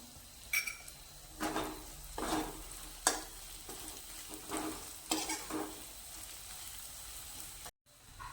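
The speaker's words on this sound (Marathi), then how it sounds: "बघा अशा प्रकारे आपला मसाला परतलेला आहे" Masala of peanut powder and turmeric being stirred and fried for a spicy brinjal (vangi) bhaji, with repeated spoon scrapes against the pan over a steady soft sizzle, ending in a brief cut-off.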